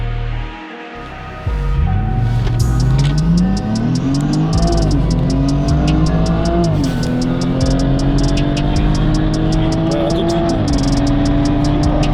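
Rear-wheel-drive BMW E90 340 with a 3-litre twin-turbo diesel in stage one tune, revving loudly and accelerating up through the gears with rising engine pitch, close and dominant throughout.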